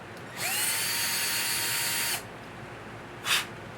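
A power drill with a 7/32-inch bit whirs loudly for about two seconds, rising quickly to speed and then stopping, followed by a brief short burst a moment later.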